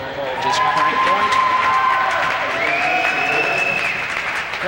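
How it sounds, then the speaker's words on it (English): A crowd claps and cheers steadily at the 1990 US National Championships racquetball singles final, a dense sustained wash of applause with whistles and voices rising through it. "There the crowd getting on the side of Tony Bevelock after that nice shot"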